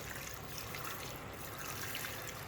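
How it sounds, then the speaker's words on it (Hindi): Water pours steadily into minced beef in a cooking pot for a qeema beef biryani, a continuous close splashing trickle that runs for a few seconds with no voices. "अब मैं इसमें पानी शामिल करूँगा कि ये सारा ड्रॉप हो जाए।"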